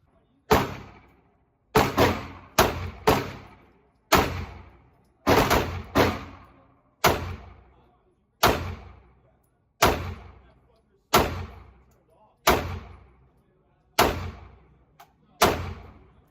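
Live pistol fire at an outdoor shooting range: about a dozen sharp, loud single shots, some in quick pairs, each followed by a short decaying echo, with quiet gaps between.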